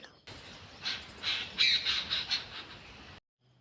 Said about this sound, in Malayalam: ഇതാണ് കരിയിലെ കിളികൾ